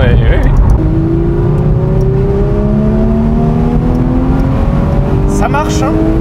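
A Porsche 911 Speedster engine revs repeatedly, its pitch climbing in loud surges while people talk over it.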